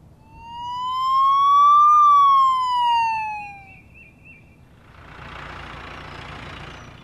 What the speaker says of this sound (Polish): To jest straż pożarna.